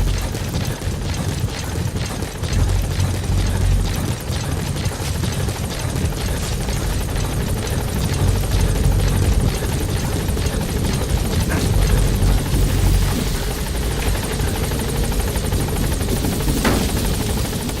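A helicopter in the Metal Gear Solid V video game thumps its rotor continuously and loudly while gaining altitude, with steady chopping blades over a dense engine roar for the whole stretch.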